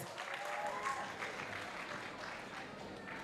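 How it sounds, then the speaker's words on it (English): Graduation audience at a school ceremony clapping for themselves, a soft, distant patter of applause that continues steadily. "Let us all give ourselves a round of applause."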